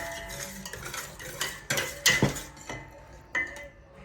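A spoon stirs vanilla essence into wet eggless teacake batter, making soft scraping under a few sharp clinks and knocks against the bowl, close and irregular.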